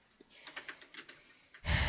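Fingers tap keys on a computer keyboard in a quick string of soft clicks, close and quiet, then a sudden burst of louder broadband noise cuts in at the end.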